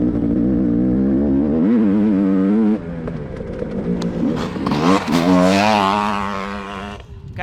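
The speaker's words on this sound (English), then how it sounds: "See what this fuel-injected 500cc two-stroke, the most modern 500 you can buy, that money can buy, on track now." A fuel-injected 500cc two-stroke dirt bike rides hard on a track, its loud, close engine revving up and down through gear changes with a sharp rising howl near the end.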